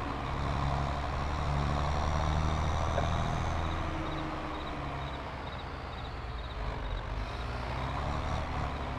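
Low truck engine rumble from a video game, steady and fairly loud throughout, with faint repeating reversing beeps ticking in the background.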